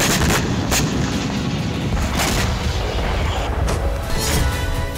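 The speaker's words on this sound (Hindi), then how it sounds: "ये विस्फोट यूक्रेन ने एक ड्रोन के जरिए किया है" Continuous heavy rumbling roar with several sharp booming hits, like a large explosion and blasts echoing through the open air, from a drone strike about 150 km from Moscow.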